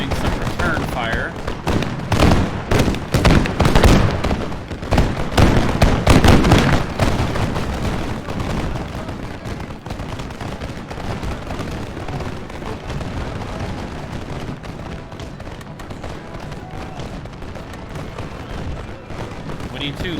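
Massed musket volleys crackle through a Napoleonic-era battle in the strategy game Total War Empire, with dense overlapping gunfire and booming blasts under continuous commentary, loudest in the first third.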